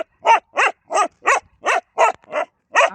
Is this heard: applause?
no